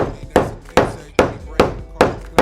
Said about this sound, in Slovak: Tak ako na to robíme dierky. Zoberieme si kladivo